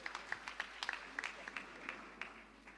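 Scattered, uneven hand claps from a church congregation at a Kikuyu Sunday service, fading after praise and worship, fairly quiet and distant in a reverberant hall, with no one speaking.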